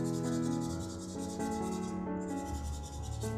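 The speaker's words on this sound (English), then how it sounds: "just lightly buff that off" A slightly abrasive buffer lightly rubbing over a nail during a manicure, giving a steady, close, continuous scratchy buffing sound with small strokes and no talking.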